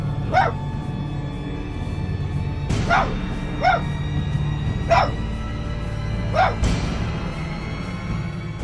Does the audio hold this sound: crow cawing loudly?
no